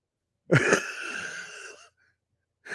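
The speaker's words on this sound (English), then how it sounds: "I'm sorry about my cough" A man's cough on a talk show, a single harsh, raspy burst trailing into wheezy breath, close and fairly loud, followed by a pause and the start of another sound.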